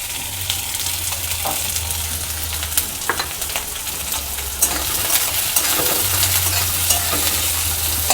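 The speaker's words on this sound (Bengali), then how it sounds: "দিয়ে দেব পেঁয়াজ কুচি" Chopped onion frying in a hot pan for a Bengali patishapta pitha filling, a steady close sizzle with scraping stirs and occasional light clinks of the utensil against the pan.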